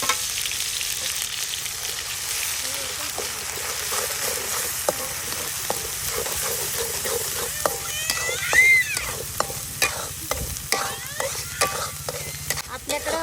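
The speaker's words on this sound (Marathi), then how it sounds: "आता तेल ओतूया आपण आता आपण आहे ना आलं लसूण कोथिंबीर त्याचं वाटण ह्यात घालूया" A ginger, garlic and coriander paste fries in oil for cuttlefish over a wood-fired stove, giving a steady sizzle with repeated stirring scrapes and clicks and some faint background sounds.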